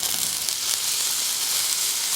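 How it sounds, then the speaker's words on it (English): A constant bright sizzle of chicken skewers on a hot grill, steady hissing crackle with no pauses, close and fairly loud. "you wanna hear a nice sizzle."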